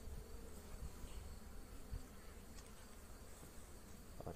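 Honey bees buzzing around an opened hive holding capped brood, a continuous faint hum with no one talking.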